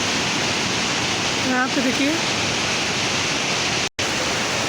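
Rushing, fast-flowing water near a suspension footbridge in a hilly area, a loud continuous roar of noise, with someone briefly speaking over it and a short dropout near the end.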